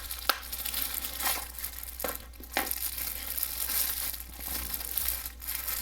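Crinkly plastic packaging is handled while a fixed-blade knife with a plastic handle and gut hook is pulled free. Irregular crackles and a few sharper crunches stand out close and clear against quiet background.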